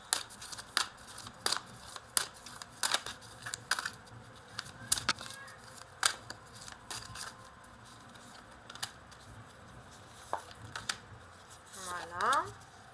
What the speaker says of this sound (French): on va ajouter maintenant un oracle de la voile des âmes sur les cartes que je n'ai pas retournées